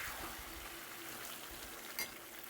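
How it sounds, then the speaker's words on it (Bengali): Ridge gourd frying in a pan with salt and turmeric, a steady soft sizzle with faint stirring and one brief utensil clink, no talking. "এবার আমি ভাজা ভাজা করে নিচ্ছি।"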